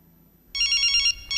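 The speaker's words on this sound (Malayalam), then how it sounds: "Whose phone is that?" A phone in a classroom starts ringing with a bright electronic bell trill, loud and near, in one long burst followed by the start of a second.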